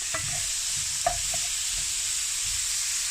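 Minced meat for a pasty filling sizzles in a frying pan with a steady, bright hiss, broken by a few soft stirring knocks from a utensil.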